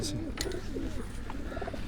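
Kamgar-breed pigeons coo softly in a continuous low, throaty burble, with faint background voices and a noisy ambience around them.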